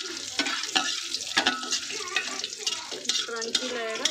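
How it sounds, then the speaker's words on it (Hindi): Cashews and raisins frying with bay leaf and whole spices in a hot pan, a steady close sizzle with intermittent stirring scrapes and clinks of a spoon against the pan. "इसको भी फ्राई कर लेते हैं।"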